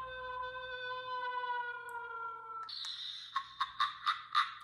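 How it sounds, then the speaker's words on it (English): A small Halloween PocketBac holder playing electronic spooky sound effects: a drawn-out tonal moan, then a shift to a rhythmic series of cackling bursts, thin and toy-like. "So, like, cackling, a scream,"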